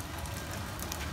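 Steady rain falling outdoors, a faint even hiss of drops with no talking.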